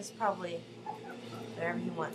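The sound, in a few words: dog barking in the background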